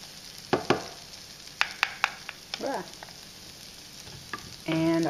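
Kitchari frying in a pot with turmeric just added, giving a steady sizzle broken by sharp scraping clicks of stirring, then a louder burst of frying near the end.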